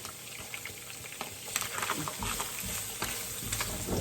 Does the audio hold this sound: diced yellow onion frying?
yes